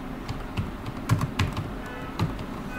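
Keystrokes on a computer keyboard as a name is typed in Bangla, a quick irregular run of close, moderately soft taps and clicks with short pauses between bursts.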